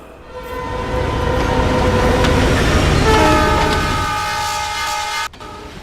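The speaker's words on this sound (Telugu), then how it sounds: "అలల శబ్దంతో పాటు రైలు శబ్దం కూడా వినపడుతోంది" A train rushes past on a track beside the beach at Vizag with a loud, sustained horn and clattering wheels, the roar easing off near the end.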